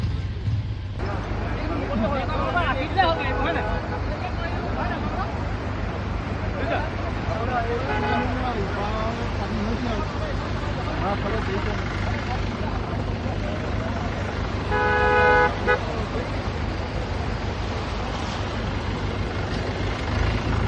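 Vehicles queued for hours on the flooded Teok National Highway in Jorhat, Assam, giving a steady low engine rumble and road noise with scattered horn-like tones, while voices murmur in the background throughout.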